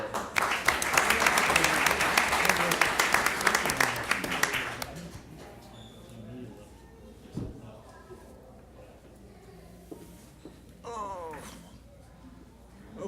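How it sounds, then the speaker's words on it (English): An audience at a city mayor and council meeting gives a loud burst of clapping for about five seconds, which then stops abruptly, leaving quiet room noise and a few faint sounds. "One more round of applause"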